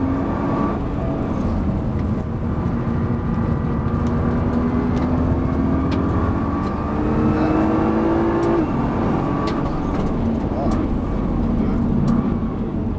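Nissan GT-R engine droning steadily at the Dreux race track, heard from inside the car, with revs rising and falling through gear changes as someone talks over it throughout.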